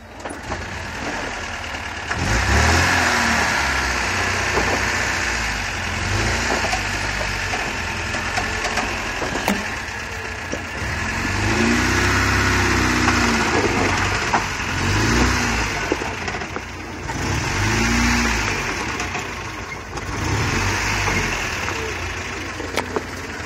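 An off-road vehicle engine revs and strains while driving through rough ground, with loud rumbling surges, crunching and creaking, and repeated rises in power over about twenty seconds.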